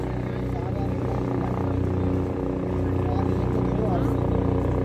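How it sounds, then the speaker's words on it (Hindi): Helicopters fly at Kedarnath amid fog in the evening, their steady low rotor drone running throughout under continuous nearby talk. "ये देखो हेलीकॉप्टर सेवा, तीन तीन दो आ रहे हैं, जा रहा है"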